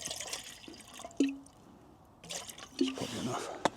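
Water poured into a Jetboil camping stove cooker in a bicycle workshop, a few short gurgling drips and splashes over roughly four seconds, fairly quiet and close, with light background noise between pours.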